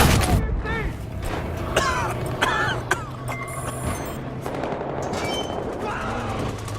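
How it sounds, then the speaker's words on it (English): Gunfire crackles in the Battlefield Hardline video game, dense rapid bursts and single shots over a continuous battle din, with players shouting over it throughout. "Shoot these bastards!"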